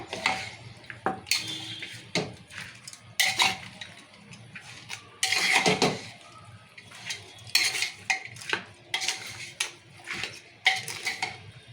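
A spoon scrapes and clinks repeatedly against a bowl, mixing spices with a spoonful of oil in irregular bursts of clatter close to the microphone.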